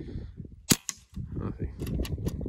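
A single sharp rifle shot fired at a target outdoors in Sinaloa cracks out loudly, then a second fainter report follows amid quiet background voices and rustling.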